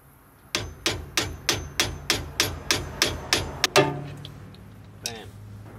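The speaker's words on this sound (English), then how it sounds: "Now all I do to get these out is just smack them out with a flathead screwdriver. And a hammer." Hammer blows on a flathead screwdriver knock out the rear leaf spring shackle bushings of a 2008 Holden Rodeo: a steady run of about a dozen sharp metallic strikes, close and loud, ending with a heavier clank and a faint knock after.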